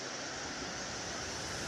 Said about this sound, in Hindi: काली नदी